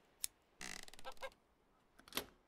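An angry hen squawks in The Hand of Glory video game: a sharp cluck, then a ragged run of squawks, then another harsh cry, all fairly faint with no talk.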